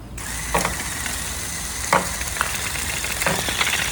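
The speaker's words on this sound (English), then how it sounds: "I can demonstrate our intake a little bit" A competition robot's intake mechanism runs with a steady whirring, rattling mechanical hiss, broken by a few brief clacks and clicks, close by and without speech.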